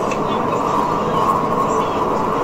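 A bullet train from Guangzhou to Shenzhen runs through a tunnel in mountain country, giving a steady, loud interior rumble with a constant hum and no breaks.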